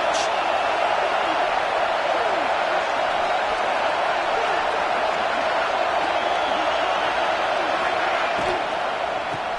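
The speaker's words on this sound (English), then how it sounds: "Third down play in the red zone, and this crowd is at fever pitch." Football stadium crowd at a Michigan vs. Northwestern game roaring on a third down play in the red zone, a steady, dense and loud wall of cheering that never lets up.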